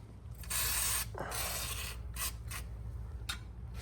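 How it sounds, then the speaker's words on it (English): Penetrating lubricant is sprayed onto the bolts of a 2005 Dodge Neon SRT4 during a restoration, several close hissing spray bursts of varying length over a low background hum. "we're gonna use this, spray the bolts"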